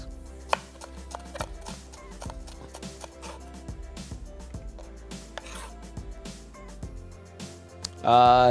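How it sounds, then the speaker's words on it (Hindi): A kitchen knife slices onions thinly, tapping on the board in a steady, quick rhythm of sharp little knocks, with a louder burst of noise at the very end. "इसी तरीके से हमने प्याज को बारीक स्लाइस कर लेना है, थिन स्लाइसेस"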